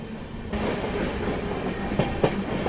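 A Lucknow–New Delhi superfast express train runs at speed, heard from on board as a steady loud rumble with rhythmic wheel clicks over rail joints and a couple of sharper clacks near the end.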